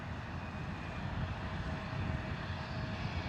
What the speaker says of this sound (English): An American Airlines from St. Louis, Embraer.